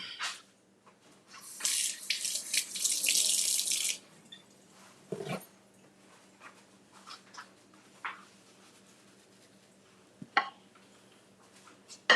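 Blueberries are rinsed under a running kitchen tap, a loud rushing splash for about two seconds, followed by quieter clicks and handling sounds nearby.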